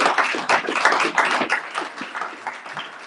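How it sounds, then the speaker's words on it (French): A room audience applauds after a French-language conference talk, a steady patter of many hands clapping at moderate volume with no speech over it. "Merci beaucoup, on peut l'applaudir."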